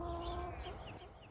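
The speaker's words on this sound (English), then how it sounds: "The originals here are the yellow collared chickens, and Jack and Miguel." Yellow collared chickens cluck at a farm animal sanctuary, several soft clucks and calls scattered over steady background noise at a moderate distance.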